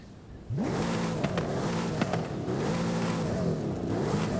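Mercedes SL65 AMG Black Series engine in Forza Horizon 5, loud and close, starting abruptly and then revving up and down through repeated gear shifts with a steady, rising and falling drone and no talk.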